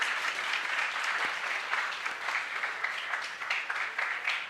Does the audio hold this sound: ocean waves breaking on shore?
no